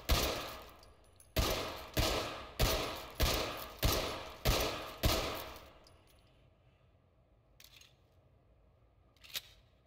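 Pistol fire in the tactical shooter Ready or Not: seven loud, crisp shots in a slow, evenly spaced rhythm, each ringing briefly before the next, followed by fainter mechanical clicks and one last sharp snap.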